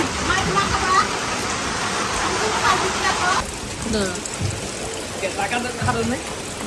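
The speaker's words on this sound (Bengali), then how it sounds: "কত সুন্দর বৃষ্টি বৃষ্টি" Steady rain falls outdoors as a dense, hissing wash that is loud at first and then softer, with people talking over it.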